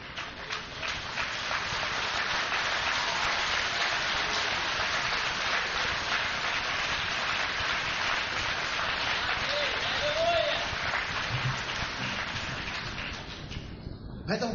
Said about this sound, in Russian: Дайте Иисусу аплодисменты.